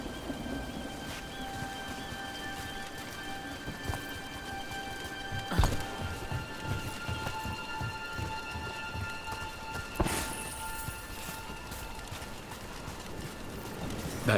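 Steady rain patters on surfaces in a Dragon Age: The Veilguard game scene, a soft continuous hiss with occasional low rumbles and sharper clip-clop knocks.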